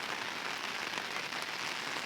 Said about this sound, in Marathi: पाण्याचा जो आवाज येतोय ना मग खतरनाक आवाज येतो